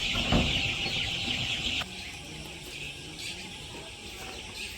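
Chickens in a village yard cluck softly, a few short clucks over steady outdoor background noise, fairly quiet and close.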